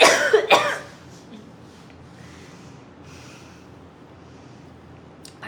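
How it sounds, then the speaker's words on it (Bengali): A woman lets out a short, loud burst of coughing right at the start, then only faint room quiet follows. "সরি, হঠাৎ করে অনেক কাশি আসছিল,"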